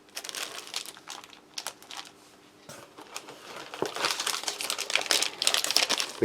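A packet of tissues or toilet paper from a British Army 24-hour ration pack crinkles and rustles as its plastic wrapper is handled and torn open, close up, in irregular bursts that grow busier toward the end.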